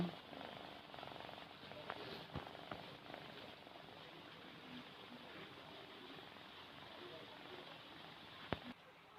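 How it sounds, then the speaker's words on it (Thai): Soft, steady rhythmic rumbling of a cat snoring close by, faint and low over a constant background hiss. "เสียง แมวกลน"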